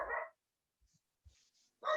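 Small yappy dogs bark indoors nearby, two short bursts separated by near silence, with faint whimpers and yips in the quiet gap.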